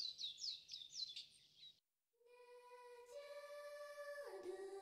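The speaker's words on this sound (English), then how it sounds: "Oh my God, the birds are chirping." Birdsong from the video game Stella Glow: a run of bright repeated chirps, then a short gap and a sustained tonal melody that rises and then bends downward, with no voices.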